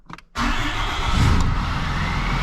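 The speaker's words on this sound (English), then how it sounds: "We got the truck running." A Cummins 6.7 diesel pickup truck engine cranks briefly, then catches and settles into a loud, steady rumbling idle close by.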